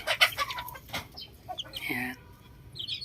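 Young chicks in a farm pen scratching and digging in wood shavings give high, busy cheeps and clucks in short bursts throughout, fairly close, with no one talking.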